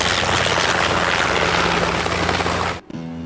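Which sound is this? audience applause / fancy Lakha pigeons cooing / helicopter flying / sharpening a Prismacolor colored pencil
helicopter flying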